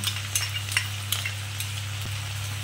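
Ginger, garlic and green chilli paste fries in hot oil in a pan with a steady sizzle, broken by a few light scraping stirs, close up and with no voices.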